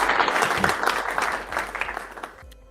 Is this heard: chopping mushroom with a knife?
no